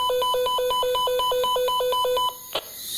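Electronic device ringing during a paranormal investigation in Guadeloupe, with a loud, close burst of rapid repeated trilling tones that stops abruptly and is followed by a single sharp click.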